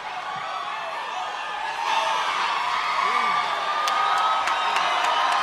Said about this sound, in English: Some warm crowds.